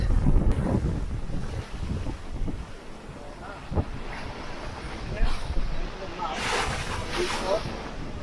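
Strong Meltemi wind buffets a sailboat crossing from Naxos to Amorgos near a lee shore, a loud continuous roar and microphone rumble with waves splashing against the hull.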